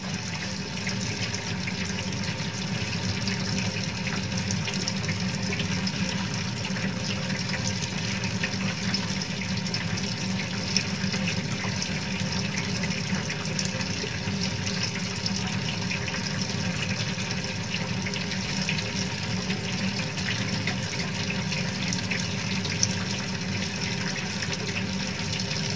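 Water runs steadily from a tap in a constant, even rush that lasts throughout, with no talking.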